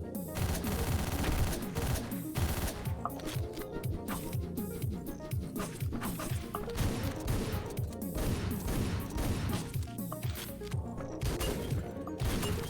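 Rapid assault rifle fire from the video game Hotline Miami, dense bursts of shots packed tightly over a loud, continuous bed of game sound for the whole stretch, with no talking.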